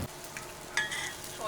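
Hongtong bogao dough cakes pan-frying in Linfen, southern Shanxi: a faint, steady oily sizzle with a brief utensil clatter partway through.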